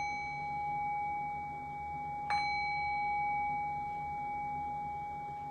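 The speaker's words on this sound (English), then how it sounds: "I'll cue that by ringing the bell 3 times." A meditation bell rings during a dharma talk, its sustained pure tone hanging in a quiet room and renewed by one soft, clear strike partway through, fading slowly with no talking.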